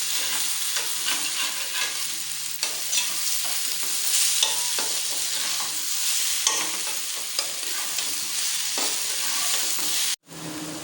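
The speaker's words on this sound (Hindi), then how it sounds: "अच्छी तरह से हम इसको मिक्स करते रहेंगे ताकि ये दोनों तरफ से एक तरह के पक्के" Potato pieces fry in hot oil in a pan and are stirred, giving a steady close sizzle broken by scraping stirs, with a brief clatter and momentary silence near the end.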